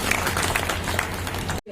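Loud, steady applause from a crowd at a police station ceremony for a reception room foundation-stone laying in Ramganj, Jaipur, continuous thunderous clapping that cuts off abruptly at the end.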